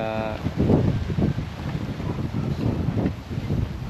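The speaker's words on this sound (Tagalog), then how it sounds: "Ang lakas ng hangin." Strong monsoon wind buffeting the microphone in loud, irregular gusts and rumbling blasts near a lakeside boulevard, continuous and roaring throughout.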